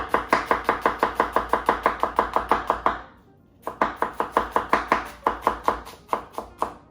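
Green onion being chopped with a knife on a cutting board, a fast steady run of sharp close knocks, a brief pause, then another quicker run of chops.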